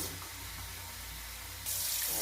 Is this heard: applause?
no